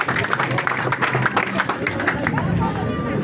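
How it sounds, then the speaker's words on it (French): Crowd applause for graduates at a ceremony: moderate clapping mixed with crowd chatter and babble, tapering off as voices take over. "On peut applaudir pour nos chers lauréats."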